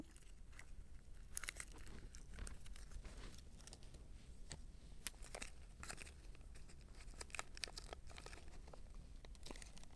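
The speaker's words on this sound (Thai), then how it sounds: "อันนี้ขออนุญาตใช้เป็นเทปกาวสองหน้านะคะ" Double-sided tape being peeled and stuck down while wrapping a cylindrical object in paper: close, irregular crackles, rips and crinkles in quick bursts, with no voices.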